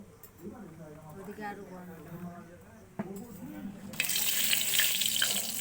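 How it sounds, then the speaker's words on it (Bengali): Cumin seeds crackling in hot oil in a kadai, a bright hiss that swells suddenly partway through and stays loud and close, with a voice speaking over the start. "এবার জিরে ফোড়ন দেওয়া হচ্ছে।"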